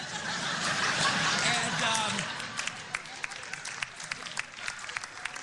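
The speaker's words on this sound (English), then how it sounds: "You hear them applauding." Applause from a small podcast studio audience, dense clapping and voices for the first couple of seconds, then thinning into scattered individual claps.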